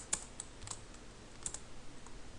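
Typing on a computer keyboard: a few scattered, fairly faint key clicks spread irregularly across a quiet background, with no talk.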